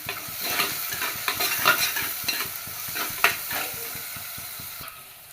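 Garlic and green chilli fry in a pan for a chayote dish, giving a steady close sizzle broken by sharp crackles and the scrape of a stirring spoon, with no voices.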